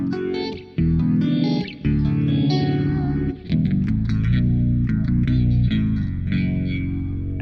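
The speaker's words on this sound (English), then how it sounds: "this is what my guitar sounds like with the pitch block on" An electric guitar running through an Axe FX 3 pitch block plays sustained, layered chords with shifting harmonized pitches, thick chorus-like shimmer and echo, loud and continuous with only brief dips between phrases.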